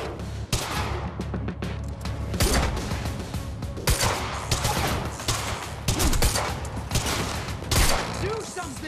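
Heavy gunfire breaks out in a Quantum Break firefight. Rapid overlapping shots and bursts crackle steadily alongside shouting voices and loud impacts.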